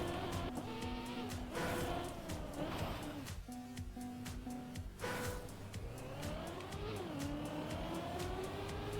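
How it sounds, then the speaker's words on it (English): A car drifting in the Trackmania racing game: a loud, continuous engine whine with tire squeal and skidding, the pitch rising and falling as the car slides and accelerates, with no talking. "I know that's a drift slide."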